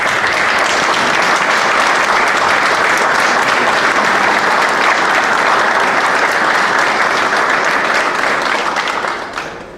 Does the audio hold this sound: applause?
yes